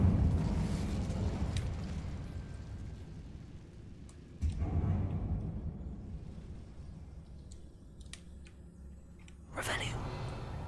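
Incendio fire spell cast in Hogwarts Legacy inside a closed mine resembling a tomb, giving a sudden whooshing burst of flame that flares twice over a low rumbling ambience, with talk at the start.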